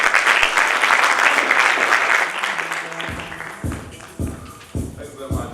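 Audience applause at a district road safety debate competition, a dense wash of clapping for about three seconds that thins out into scattered individual claps and taps near the mic.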